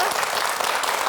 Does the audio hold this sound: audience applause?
yes